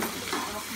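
Ground spinach paste for palak paneer is stirred in a hot pan, giving a steady sizzling hiss with soft scraping, continuous and close, with no talking.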